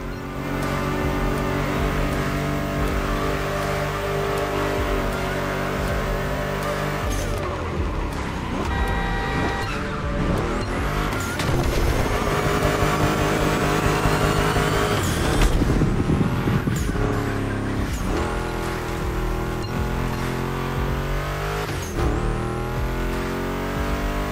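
A Ford Mustang GT's engine roars and revs in The Crew Motorfest racing game, loud and close throughout, rising and falling with gear shifts and throttle changes over a busy, constant mechanical din.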